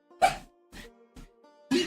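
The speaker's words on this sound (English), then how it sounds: "Sorry about the dogs; they're going nuts because my wife just got home." Several dogs bark at home in short, loud bursts, three or four sharp barks separated by brief pauses, close to the microphone with no talking over them.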